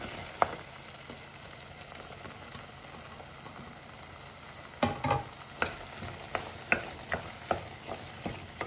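Tomatoes cooking in a gravy pan for an alasandalu (black-eyed pea) curry: a low, soft sizzle at first, then rhythmic scraping stirs against the pan, near and moderate, with no voices.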